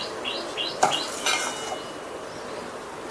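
Semolina, gram flour and salt being stirred together in a mixing bowl for dosa batter, giving soft scraping and clinking of a spoon against the bowl in a few brief strokes, fairly quiet and with no talking.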